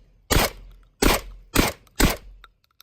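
A Lynx 12 shotgun firing shells: four loud, close shots spaced roughly half a second to a second apart, each a sharp blast with a short decaying tail, followed by faint clicks.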